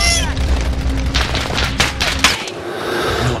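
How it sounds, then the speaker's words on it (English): Rapid automatic gunfire in Call of Duty: Modern Warfare, loud close bursts of overlapping shots over a steady game backdrop, then cutting out abruptly near the end. "He's gonna probably get shot right now. Yeah, someone's gonna shoot him."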